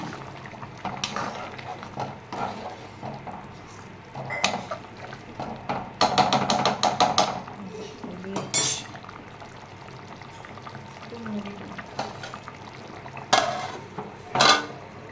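Chicken curry being stirred in a cooking pot, with quiet scraping and scattered metallic clinks of a spoon against the pot, a few louder bursts over a soft, steady bubbling background.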